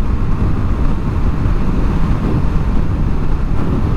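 Heavy wind buffets the microphone of a riding motorcycle in a steady, loud roar with low rumbling gusts throughout, no voices.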